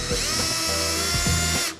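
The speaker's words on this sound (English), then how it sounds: "Let's start drilling." A power drill bores holes into the front bumper of an Infiniti G35, a close, loud, high-pitched whine with short grinding catches, stopping abruptly near the end.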